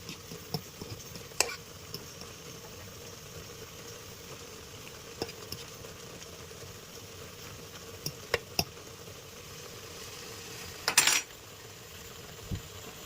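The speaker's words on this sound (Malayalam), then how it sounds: "ഇനി ഈ മസാല ജസ്റ്റ് നമുക്കൊന്ന് ഇളക്കി ഒന്ന് എല്ലാ മൊത്തത്തിലൊന്ന് ആക്കണം." Masala being stirred in a pan gives scattered spoon scrapes and light metallic clinks over a quiet, low background. A brief burst of clattering near the end is the loudest moment.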